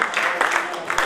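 Brief crowd applause at a French-language gathering, a quick patter of many hands clapping with some voices underneath, loud and near but lasting only about a second.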